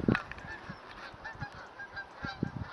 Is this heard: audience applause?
no